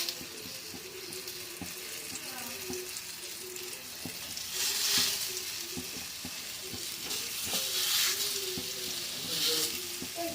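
Brinjal slices frying in oil on a hot griddle, a steady close sizzle with occasional sharp spatters and bursts of hissing that swell and fade.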